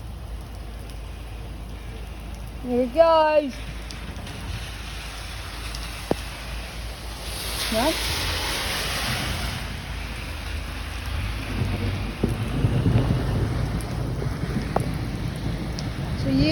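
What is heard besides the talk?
thunderstorm with heavy rain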